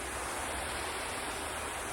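Water sprays steadily from an Eden 7-pattern 33-inch metal garden hose watering wand set to its flat pattern, a constant, fairly quiet broadband hiss with no breaks and no talking.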